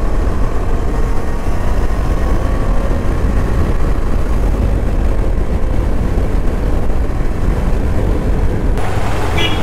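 A KTM Adventure motorcycle roars along the Marine Drive in Andhra Pradesh, making a loud, unbroken engine drone mixed with wind rush, heard close and alone without speech.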